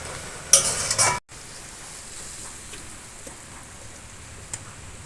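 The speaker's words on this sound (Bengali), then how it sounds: "আমি সর্ষে বাটাটা দিয়েছি একটু নাড়াচাড়া করে নিয়েই নামিয়ে নেব" Mustard paste stirred in a pan with hilsa fish head and taro, a loud scraping stir at the start, then a quiet, steady sizzle with occasional faint ticks.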